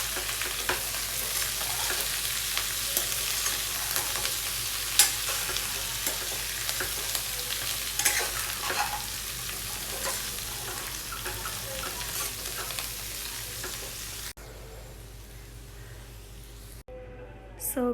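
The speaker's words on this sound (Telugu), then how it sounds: "కొత్తిమీర యాడ్ చేసిన తర్వాత మరొకసారి అంతా బాగా కలిసేటట్టు మిక్స్ చేసుకోవాలండి" Garlic chicken with freshly added coriander is stirred in a frying pan, sizzling steadily up close with repeated scrapes and clinks of the spoon, and the frying cuts out near the end.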